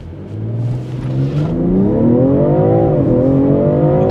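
A BMW M340i xDrive G20 accelerating hard from a launch at about 2500 rpm, the engine note climbing steadily and loudly through the revs, dipping briefly at a gear change, then rising again, close and alone.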